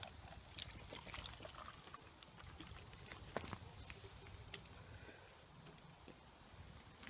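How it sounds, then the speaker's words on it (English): Water poured into a cup at a camper trailer, a faint, thin trickle and splash, quiet and fairly close, with no one speaking. "Now I'll fill this up with water."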